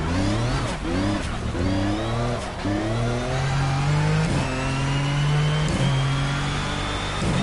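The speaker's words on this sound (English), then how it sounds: "This is a proper mental little car." A small race car engine in Project Cars revs hard and repeatedly, rising through the gears with sharp shifts and a loud, close, continuous whine, alone without talk.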